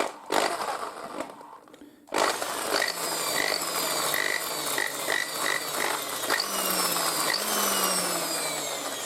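A steady whining drill with a 5.5 mm bit runs continuously after a brief quieter start, with rising tonal sweeps as it bites into material for a handmade duck call, close and loud.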